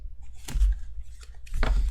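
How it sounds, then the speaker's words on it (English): A plastic deck of cards being shuffled, two loud clattering bursts of flicking and slapping, close up, with quiet gaps between. "You can hear how loud it is to shuffle because it's plastic."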